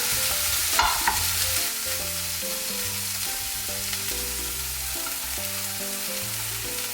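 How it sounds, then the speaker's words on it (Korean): Squid and kimchi stir-frying in a hot pan with vegetables, a steady sizzle and scraping stir over soft background music, with no talking. "김치와 오징어도 넣고 같이 볶아주세요."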